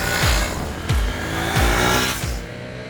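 A Triumph Thruxton 400 motorcycle ridden through a series of gear changes, with its engine droning loudly and steadily at close range and a rising pitch sweep repeating about every 0.7 seconds, no talking.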